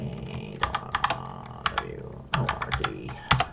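A password being typed on a computer keyboard during a Linux access-control lab, close crisp key clicks in quick irregular bursts with brief pauses between them.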